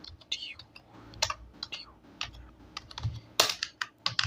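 Keystrokes on a computer keyboard while filling in customer name fields on a bank form, quick irregular clicks in bursts with a soft whispery voice faintly underneath.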